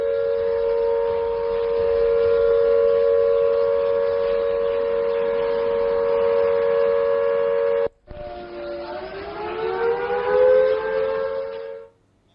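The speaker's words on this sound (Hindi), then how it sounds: "पहले जरा सुन लीजिए किस तरीके से सायरन बज रहे हैं।" An air raid siren in Chandigarh, India, holds a steady wailing tone, cuts off briefly, then rises again in pitch before stopping, with no talk.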